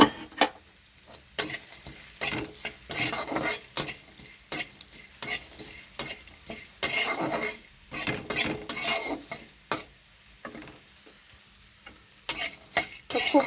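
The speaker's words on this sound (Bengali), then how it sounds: "তো এখানে আমি বড়িটা দিয়ে দিচ্ছি ভাজার জন্য" Lentil badi frying in hot mustard oil in a wok, with repeated scraping stirs and clinks of a utensil against the pan over a soft sizzle.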